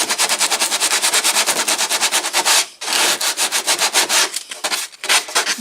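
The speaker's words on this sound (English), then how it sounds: "And then I can take the finer grit, smooth the edge down." Finer grit sandpaper smooths the cut edge of a wooden lap desk in fast, rhythmic back-and-forth strokes, loud and close, with one short pause midway.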